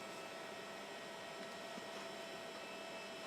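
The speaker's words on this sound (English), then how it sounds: "Now I hear the floppy, or the hard drive." An old PC floppy drive or hard drive runs with a steady whirring hum and faint mechanical noise, low and constant with no talking.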